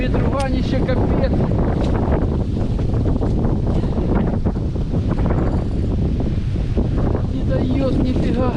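Heavy gusts pound a microphone at a stormy autumn fishing spot, a constant loud rumbling roar that never lets up, with a voice faintly breaking through the buffeting.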